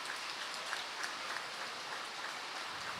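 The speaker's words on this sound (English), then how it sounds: "Fabulous result for Tomasz as the rain continues to fall here." Steady rain falls at a kart racing circuit podium ceremony in Malaysia, a dense, even hiss with scattered drops throughout and no speech over it.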